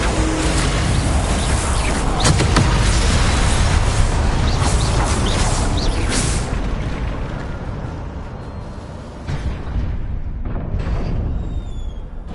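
A magical Confringo blast in the Hogwarts Legacy video game roars as a loud, sustained broadband rumble and crackle that holds for several seconds, then thins out as it fades.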